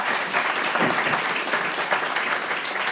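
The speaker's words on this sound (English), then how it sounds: "So let's give him a round of applause" Applause at a University of Missouri Board of Curators meeting, a dense, even round of clapping from the audience that holds steady throughout with no talk over it.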